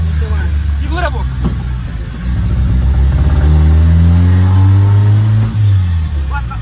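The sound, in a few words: car engine revving while driving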